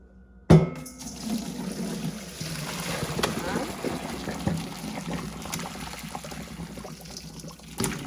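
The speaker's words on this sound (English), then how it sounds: "So we're going to drain these potatoes in the strainer here." Boiled sweet potatoes and their cooking water poured into a strainer in a kitchen, a sudden clank followed by a sustained splashing, rushing pour that tapers off, with a few small knocks.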